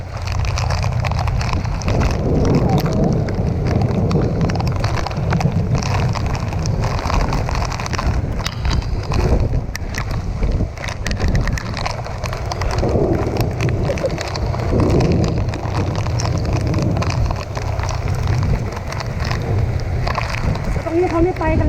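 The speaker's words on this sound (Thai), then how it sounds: "ไอ้เนี้ยมีลูกเห็บด้วย" A heavy hailstorm in Pak Chong makes a dense, steady roar of hail and rain pounding surfaces nearby, continuous for the whole stretch with gusty rumble underneath and voices at times.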